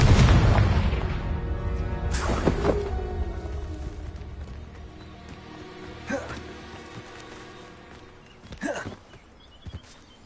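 A Confringo blasting curse goes off in Hogwarts Legacy, a loud booming burst at the start with rumbling decay, followed by scattered thuds and smaller pops amid game sounds.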